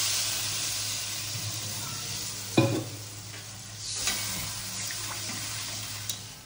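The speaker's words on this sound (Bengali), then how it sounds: "ঝোল ফুটে উঠেছে" Thin koi fish broth with potatoes and ridge gourd in a pan, a constant bubbling hiss with an occasional brief clink of a utensil.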